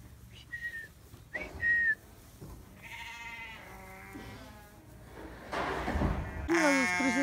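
Short bursts of whistling, a few brief tonal notes early on, followed by bleating sheep or goats calling loudly near the end.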